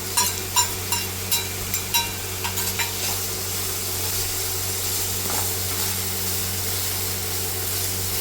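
Chopped tomato and a spoonful of sugar sizzling steadily in a pan for ilish makhani, with a few sharp stirring clinks near the start and a continuous frying hiss throughout.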